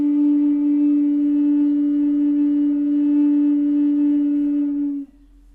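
A flute blown through its side hole, with no finger holes covered, holds one steady, breathy tone for about five seconds before it cuts off, leaving quiet room noise.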